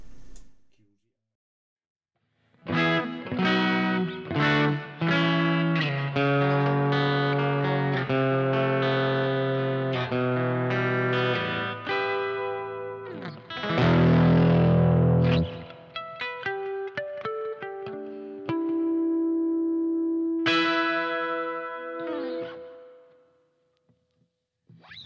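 Harley Benton TE-62 electric guitar with a roasted neck, played through its various tones: loud sustained chords and single-note phrases ring out clearly, with a brief gritty strummed passage midway and a final note fading into silence.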